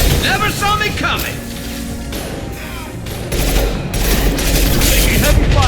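Heavy gunfire in the video game Mass Effect 2: a loud, continuous, dense clatter of weapons fire and mechanical impacts that swells toward the end with no break.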